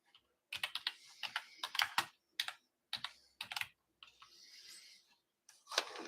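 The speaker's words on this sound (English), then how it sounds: "I want to type you something here" Bursts of typing on a computer keyboard, close and moderately loud, with rapid key clicks in clusters separated by short pauses, no voices.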